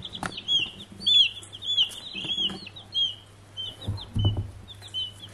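Several chickens from a backyard flock of about twenty cluck and chirp close by in short repeated calls, over a low steady hum with occasional bumps and rustling.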